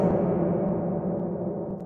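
A voice run through a reverb effect set to maximum room size, a dense washed-out smear of sound that lingers steadily with no clear words.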